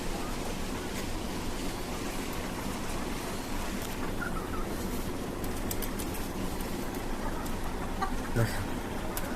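A big hybrid rooster and hens cluck on the roof of a five-storey house, with soft intermittent clucks and short calls over steady background noise, fairly faint and at a little distance.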